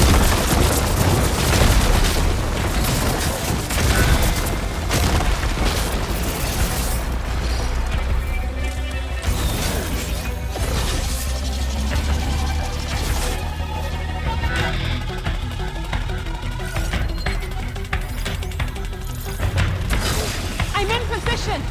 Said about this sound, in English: Hopefully the team can fire a few shots from that ballista.